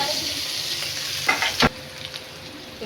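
Potatoes frying in oil in a pan give a steady close sizzle, with a sharp utensil clatter partway through before the hiss settles lower.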